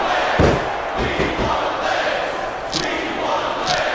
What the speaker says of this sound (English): This superstar is all fired up, and so is this capacity crowd.